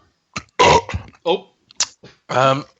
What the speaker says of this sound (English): that burp smells absolutely revolting